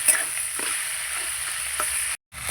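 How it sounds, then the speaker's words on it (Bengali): Fish heads frying hard in a pan for a Bengali dish, a steady close sizzle running throughout before a brief drop to silence near the end, then resuming. "এবার আমি ভালো করে আবার ভাজবো"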